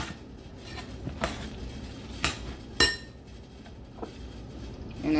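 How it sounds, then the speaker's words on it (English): Fresh garlic stirred into a pork chop stuffing mixture, with a utensil clinking and tapping against the bowl in a few distinct knocks over quiet background shuffling. "Again, stirring it up. Adding my garlic, my fresh garlic. Mix that all in."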